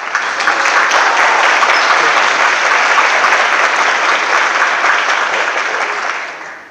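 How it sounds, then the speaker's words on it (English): A seminar audience applauds a colleague before a science talk on epigenetics, exercise and metabolism, with sustained, even clapping across the hall that holds steady and then fades out at the end. "We can have a round of applause for Mike Winlow, please."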